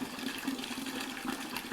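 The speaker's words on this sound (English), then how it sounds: "I'll load up the buckets with this dirty water" Dirty water sloshing and pouring into buckets after wax rendering, a steady close splashing gush with no voices.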